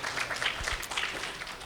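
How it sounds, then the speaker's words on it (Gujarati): A crowd applauds a Swami at a devotional gathering: dense, steady clapping that fills the short stretch at an even loudness, with no voice over it. "સ્વામીને પણ એક વખત તાળીઓથી વધાવીએ"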